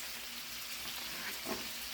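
Pieces of turkey and beef kielbasa sizzle steadily in a hot pan, a soft continuous frying hiss with a faint stir or scrape toward the end and no talking.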